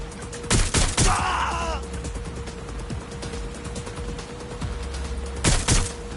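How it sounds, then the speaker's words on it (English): Gunfire in the Watch Dogs: Legion video game, a burst of close sharp shots at the start followed by ongoing combat noise, then another short volley near the end, with a brief strained voice in between. "Taking fire!"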